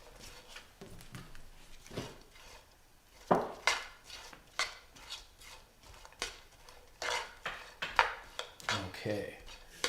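A spoon clinks and scrapes against a pan as paprika is mixed into sausage shakshuka. The irregular, fairly quiet knocks and stirring come up close, with occasional voices.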